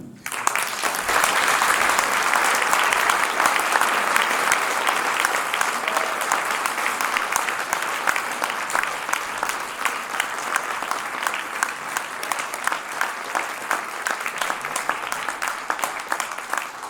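Sustained thunderous applause from an audience at a charity concert by an amateur wind band in Poissy, dense and continuous for well over fifteen seconds, loud and steady with little variation.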